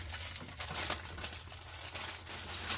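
Soft paper crinkles and rustles nearby in quiet, uneven bursts, like a thin napkin being handled.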